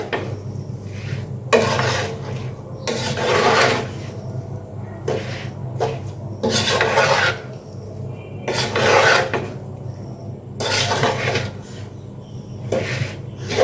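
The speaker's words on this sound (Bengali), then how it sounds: "এবার ভালো করে আমের সঙ্গে মাখিয়ে নেব।" Raw mango pieces are mixed by hand with spices and oil for a mango pickle, making a series of rough rasping, rubbing bursts about every second or two, close up.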